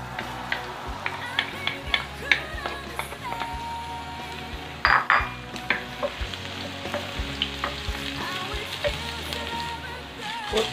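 Garlic sizzling in olive oil in a pan for a creamy mushroom sauce, a steady crackling fry with repeated clinks and scrapes of a utensil stirring against the pan throughout, close and fairly loud.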